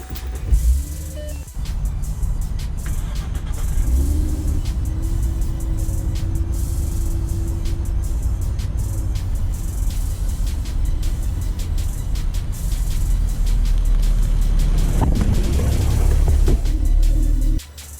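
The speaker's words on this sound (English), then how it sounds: "So I'm gonna try to drive over the rock and not the GoPro." A Ford Mustang rolls slowly over a rock, producing a steady low engine and tyre drone for most of the stretch, with a brief idle before and a heavier scraping, thumping surge near the end before it settles.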